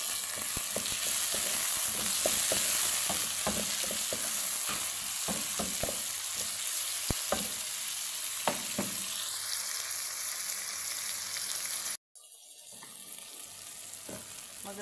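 Tomato sautéing with garlic in a pan for a Filipino ginisang upo with sardines, a steady close sizzle punctuated by many sharp spatula scrapes and stirs, with a brief dropout near the end.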